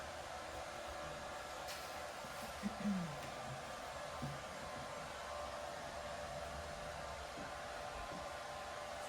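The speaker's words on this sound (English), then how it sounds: "Casey, if I use the hair dryer, is it going to be distracting on the video?" A hair dryer blows steadily and close by throughout, a constant broadband whoosh with faint low knocks and rustles in the background while a watercolor vase painting is dried.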